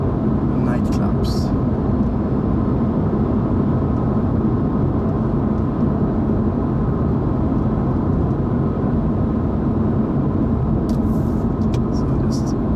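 Porsche 911 Turbo (997) driving through Stockholm, Sweden, with a steady low engine and road rumble throughout and a few brief faint clicks near the start and end.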